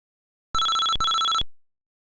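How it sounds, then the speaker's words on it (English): Two electronic phone rings in the point-and-click game The Big Sleaze, each about half a second long, back to back and close. The tone is bright and buzzy with a clean, quiet background. "There was a ringing sound effect."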